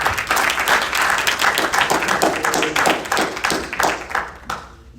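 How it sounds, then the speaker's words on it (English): A small audience gives a round of applause to welcome a guest speaker at a church apologetics event. The clapping is close and distinct, with audible individual claps, and fades out over about five seconds. "let's give him a round of applause"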